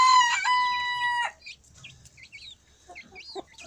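Chicks of a Pekin silkie cross hen, with a drawn-out crowing-like call up front followed by soft scattered peeps and clucks, close and moderately loud.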